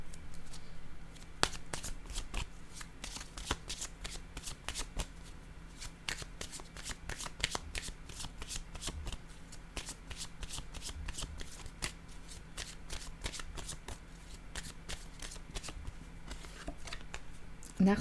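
A deck of playing cards is shuffled again and again, with rapid riffling bursts and crisp snaps repeating steadily over a low background hum, close and fairly quiet.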